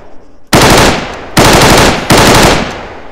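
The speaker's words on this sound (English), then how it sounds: "just to show you it's fully auto. I'm going to get full auto right here." Automatic M4A1 RIS rifle fire in the video game Arma 3, three loud sustained full-auto bursts in quick succession with no talking.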